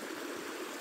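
A small mountain stream runs over rocks, giving a steady, even rushing hiss of water with no voices.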